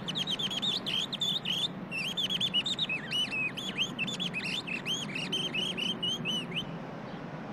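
A voice imitates scolding birds with rapid, high chirping whistles in quick repeated bursts, close and fairly loud, stopping near the end.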